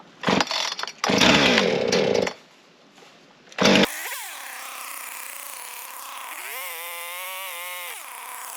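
A chainsaw cutting firewood starts after a few sharp bursts of noise, then runs loud and close with a steady whine, revving up and down as it bites into the wood.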